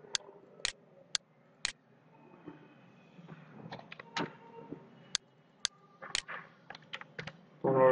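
Computer keyboard typing in sharp, irregular bursts of clicks and taps while writing an About Us section for a corporate business flyer, close and moderately loud with a faint background hum and no voices.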